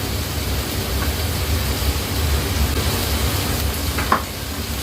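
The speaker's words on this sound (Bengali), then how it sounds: "এবার এটাকে মিনিট 2-3 ভাজা ভাজা করি, একটু তেলটা বেরোক" Onion with garlic and ginger paste frying in oil gives a steady, close sizzle throughout, with one brief clink near the end.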